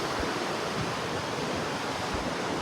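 Strong wind rushes across an open cruise ship deck in the middle of the ocean, a steady, loud broadband roar with no break and no voices.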